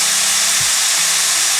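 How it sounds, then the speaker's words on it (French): Onions and bacon lardons fry in a pan with a steady, close, crackling sizzle and no voices. "Ne serait-ce que mettre des oignons et des lardons dans une poêle"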